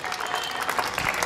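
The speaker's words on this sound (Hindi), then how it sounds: "जरा तालियां खुल के आनी चाहिए आपकी" Audience applause at a Hindi comic poetry gathering (hasya kavi sammelan), a dense burst of many hands clapping close and loud, steady through the short stretch.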